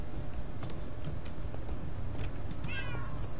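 A short, rising-and-falling cat meow sounds near the end, heard over a steady noisy background of Minecraft Deathrun gameplay with a few faint clicks.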